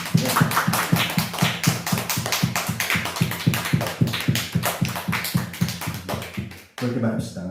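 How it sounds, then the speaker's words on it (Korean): A church congregation clapping in unison during a Sunday service, a fast steady rhythm of close, crisp claps sustained for several seconds before stopping abruptly, with a short pause and a bit of sound after. "하나님께 우리 감사의 박수로 영광 올려드리겠습니다"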